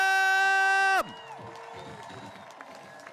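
A baseball stadium crowd at a Portland Pickles game against the Walla Walla Sweets roars steadily after a loud sustained tone cuts off, a broad, continuous wash of cheering with scattered whoops carrying on throughout.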